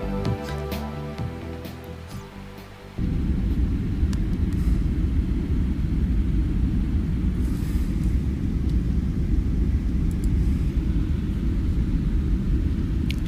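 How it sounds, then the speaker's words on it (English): An airplane flight in the video game Always Sometimes Monsters, heard as a loud continuous low cabin rumble and hiss that starts abruptly after a short lighter passage and holds steady. "Lovely plane ride."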